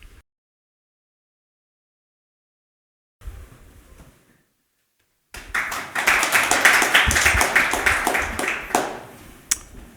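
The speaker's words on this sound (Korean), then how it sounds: "박수 주셔서 감사드리고요." An audience at a formal meeting breaks into steady applause after a pause, with a brief burst of faint noise before it; the clapping builds, holds for several seconds, then tapers off.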